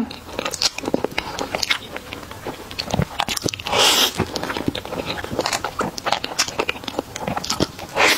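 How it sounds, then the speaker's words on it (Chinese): Bites into a taro crepe towel roll cake filled with mochi, heard up close as a steady series of soft, moist bites and chewing, with small crunches and crackles and no talk. "今天吃毛巾卷，先来一个芋泥的"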